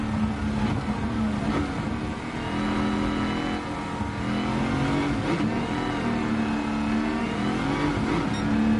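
A Pontiac GTO Judge muscle car engine in Gran Turismo 7, a loud, steady, droning exhaust note held at high revs, with small pitch shifts as the car pulls through gears and no talking.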